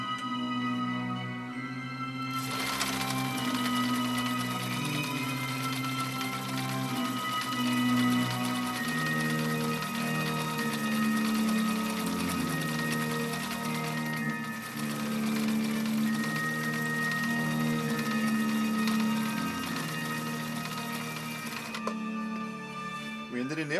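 A 1960 Viking Husqvarna CL-21A sewing machine runs nonstop for about twenty seconds, a dense, even whirring and rapid stitching chatter that starts after a short pause and cuts off near the end.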